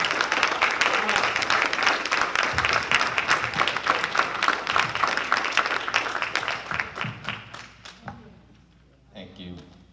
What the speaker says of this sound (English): Give them a rewarded round of applause.